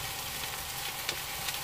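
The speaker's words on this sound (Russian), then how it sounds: "когда уже появляются признаки готовности перчика с лучком, засыпаем брокколи и долго не жарим" Peppers, onions and broccoli sizzle in a frying pan, a steady crackling hiss with occasional soft pops and stirring clicks, continuous and close.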